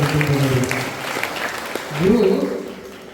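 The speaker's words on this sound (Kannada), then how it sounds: "ಅವ್ರಿಗೆ ಜೋರಾಗಿ ಚಪ್ಪಾಳೆ ಸಲ್ಲಿಸ್ಬೇಕು" An audience at a gathering at a mutt claps loudly in a steady burst of applause that swells near the end, with a voice speaking over it.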